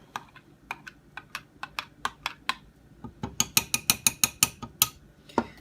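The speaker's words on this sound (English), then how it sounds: "So I got the scent in there. I'm going to stir that up." Scent gets stirred into a melt-and-pour soap mixture, making a run of sharp, close clicking taps. The taps are sparse at first, then come in a quicker, louder burst in the second half.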